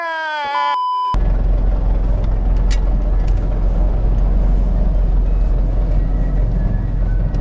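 A jammed, busy street or alley in a residential neighbourhood in Indonesia gives off a constant low rumble of idling and crawling engines and general road noise. A brief melodic tone plays before the traffic sound takes over.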